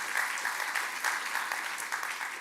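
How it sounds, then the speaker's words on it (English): Audience applause at the Brussels Economic Forum for a debater, steady dense clapping at moderate level throughout, without talk. "a round of applause, of course,"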